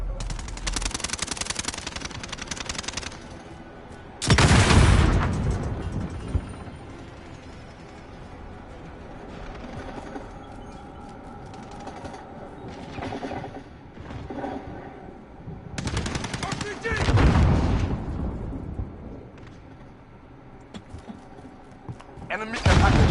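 Automatic gunfire crackles through a Modern Warfare match, long loud bursts and sustained rattling fire with booming impacts and game voices calling out over the din.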